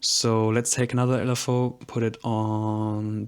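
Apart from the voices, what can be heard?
None of the usual background noises is heard.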